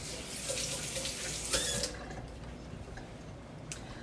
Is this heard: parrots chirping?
no